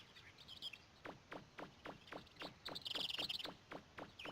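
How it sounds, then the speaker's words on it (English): Gull cries from Mega Man 64 on Kattelox Island, brief shrill calls at the start and a louder clustered burst in the middle, heard over a repeating soft pulsing ambience with no talk. "There's another seagull."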